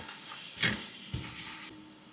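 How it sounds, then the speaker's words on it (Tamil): Chili, coriander and mint sauté in a pan for chicken biryani, with a soft, steady sizzle broken by two quick stirring scrapes, heard up close. "ஒரு கைப்பிடி அளவு புதினாவையும் சேர்த்து வதக்குங்க"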